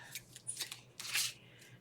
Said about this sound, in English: Got some scissors.